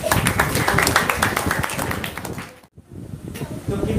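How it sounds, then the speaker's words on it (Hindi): An audience gives a short burst of clapping during a talk. Dense, rapid hand claps fill the space, then briefly drop away before scattered claps resume. "ताली बजाओ उसके लिए।"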